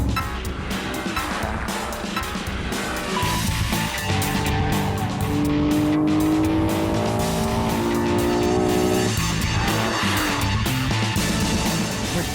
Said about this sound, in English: Brakes were growling so much.